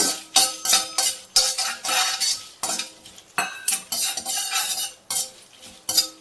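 Dried red chilies with their seeds roasting in a pan while being stirred, giving repeated scraping and clattering strokes of a spoon against metal over a soft background sizzle, close and fairly loud.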